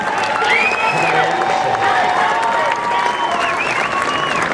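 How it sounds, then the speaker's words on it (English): A rodeo crowd at the Siskiyou County Fair applauds and cheers a comedy act, with steady clapping under a loudspeaker voice and some whoops. "How about one more thunderous round of applause?"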